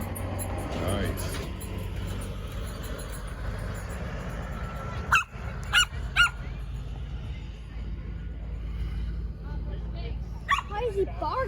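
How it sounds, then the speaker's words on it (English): Dog barking a few times at a truck show with pulling trucks, sharp bursts around the middle and a short yip near the end over steady engine rumble and crowd noise. "Why is he barking?"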